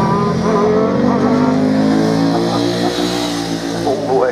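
Ducati racing motorbike ridden past on its back wheel, a loud engine rising and falling in pitch with gear changes, continuous and close.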